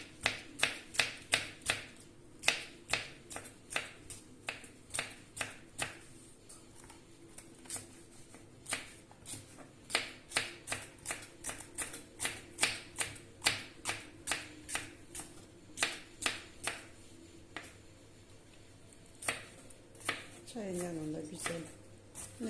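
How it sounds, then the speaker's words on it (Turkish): A knife chops bell peppers into small pieces on a cutting board, giving crisp, fairly regular close taps that run almost nonstop, under a voice talking quietly. "Onları da aynı şekilde küçük küçük doğruyorum"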